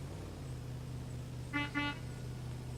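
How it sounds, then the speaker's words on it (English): A car horn gives two quick honks at a racing event, a short double toot heard over steady background hum. "there's his horn."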